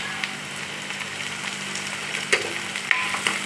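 Tomatoes fry in a pan for homemade pasta, giving a steady close sizzle with occasional spoon knocks and scrapes against the pan.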